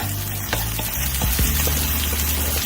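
Garlic, about two and a half teaspoons of it, frying in a pan for a Mexican dinner, giving a steady close sizzle with a few soft clinks from stirring and a low hum underneath, with no talking.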